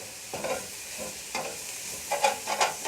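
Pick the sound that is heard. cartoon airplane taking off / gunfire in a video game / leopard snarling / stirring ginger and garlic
stirring ginger and garlic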